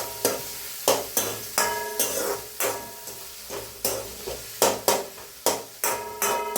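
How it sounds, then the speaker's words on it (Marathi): Tomatoes fry with browned onions in a pan, stirred in a steady rhythm of about a dozen scraping strokes over a continuous sizzle. "आता टमॅटो पण भाजून घ्यायचे व्यवस्थित."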